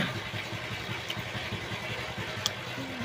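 A motorbike engine runs at a steady idle-like drone, close and continuous, with a faint tick or two on top and no voices.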